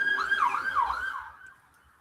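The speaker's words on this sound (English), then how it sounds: "That's an ambulance." An ambulance siren wailing in a rising and falling sweep, loud at first and then fading quickly into the distance over about two seconds.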